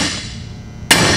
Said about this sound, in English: You'll need a ball peen hammer or some type of a hammer. You'll drive that